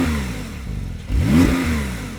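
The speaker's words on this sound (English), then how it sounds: "When you press the button, it opens a valve in the exhaust, and then it sounds like this." Porsche 911 Turbo S engine revving with the sports exhaust valve open, a short throaty blip that swells sharply after a lower idle, close and loud with no talk.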